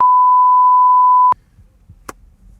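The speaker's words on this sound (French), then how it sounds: "Je mettrai un bip sur ce que tu viens de dire" A single loud, pure censor bleep tone held for over a second, then cut off abruptly, followed by faint quiet room noise and a small click.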